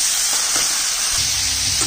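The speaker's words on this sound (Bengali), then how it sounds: "একটু লাল করে আরেকটু ভাজবো।" Mixed vegetables with a pinch of turmeric frying in hot oil in a pan, a steady loud sizzle running throughout with a few faint stirring clicks and no voices.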